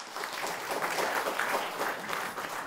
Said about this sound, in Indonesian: Boleh kita coba tepuk tangan hadirin sekalian.